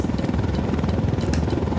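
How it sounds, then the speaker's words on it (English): A helicopter in the Ghost Recon Wildlands game, a loud rapid rotor thumping with a throbbing pulse, close by and steady across the short stretch. "Helicopter."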